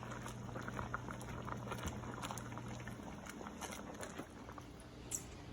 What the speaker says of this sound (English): So it's going to boil for a few more minutes